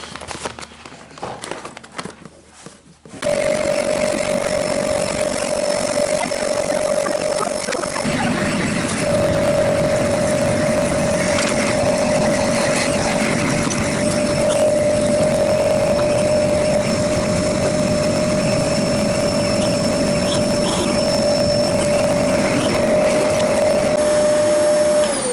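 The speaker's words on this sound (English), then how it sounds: "we finished vacuuming the apartment here." A Zero G F3D floating vacuum cleaner switches on after a brief quiet moment and runs steadily and loudly with a constant whining motor hum, close by and uninterrupted, with no talking.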